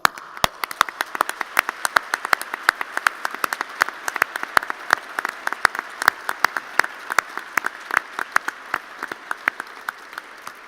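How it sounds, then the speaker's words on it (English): Audience at an MBA graduation ceremony applauding, a thin, steady patter of separate claps from a modest crowd, continuing evenly for about ten seconds. "let's give him a solid round of applause"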